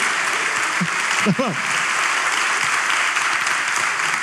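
Steady applause from a studio audience runs throughout, with a brief voice speaking over it partway through.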